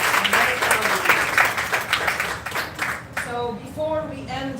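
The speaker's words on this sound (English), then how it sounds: "Please have a nice round of applause for yourself" Applause rings out at a live online music recital, a scattered, crackly patter of clapping from several participants that fades after a few seconds as a voice starts talking.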